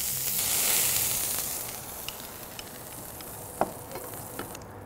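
Clarified butter sizzles on a hot diner griddle, a broad steady hiss with faint crackles and a few small pops, no voices.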